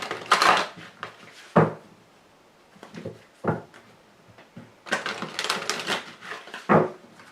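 Tarot and Lenormand cards shuffled and cut by hand, giving several short papery riffles and slaps in bursts with pauses between, close and fairly loud, with no talking.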